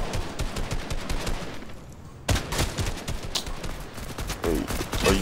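Rapid automatic gunfire in Fortnite, dense bursts of shots nearly continuous across the clip with a brief lull before resuming loud.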